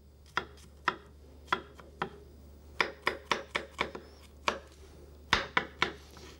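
A knife chops a garlic clove on a cutting board in a quick, uneven series of crisp, close taps, about sixteen strikes, some in fast bursts, with no talking.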